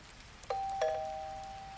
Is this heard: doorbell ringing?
yes